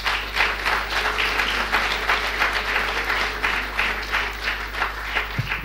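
Steady, full audience applause at a hall event opening the centenary celebrations for Pietro Ingrao in Lenola, with many hands clapping continuously and evenly throughout over a low electrical hum.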